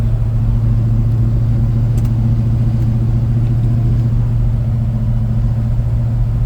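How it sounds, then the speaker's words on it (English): A 1972 Chevrolet C10 pickup's engine breathing through a Holley carburetor, a steady, loud low rumble heard from inside the cab while cruising, with no talk. "I love the sound of that Holly. It's got a little sippy sound to it."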